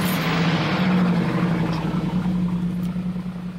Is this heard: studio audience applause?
no